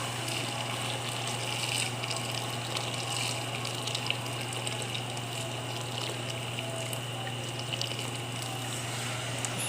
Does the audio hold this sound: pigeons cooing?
no